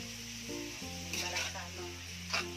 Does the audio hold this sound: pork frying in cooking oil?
yes